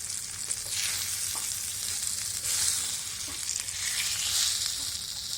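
Rawa-coated halibut (bhakus) fish fry in a pan, a continuous soft sizzle of oil with occasional small clinks, no voices.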